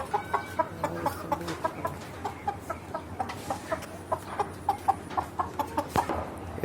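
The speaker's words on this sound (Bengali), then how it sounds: "এই যে বড় মুরগি," Large chickens cluck repeatedly in a poultry shed holding about a thousand birds, with steady rhythmic clucks close by over faint barn background noise.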